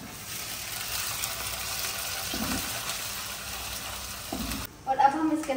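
Ginger garlic paste fries in a pan, a continuous close sizzle with stirring scrapes, then a brief burst of clattering toward the end.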